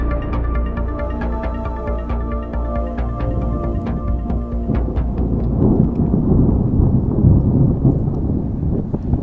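Thunder from a thunderstorm seen from its edge after sunset, with deep, loud rolling rumbles that swell and decay continuously, overlaid by crackling discharges and steady wind and rain noise.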